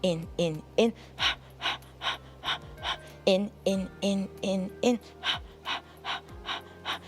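Rhythmic sharp inhales and puffing exhales from a pilates breathing exercise, about a dozen quick gasping breaths repeating in sets with short pauses, close and clear.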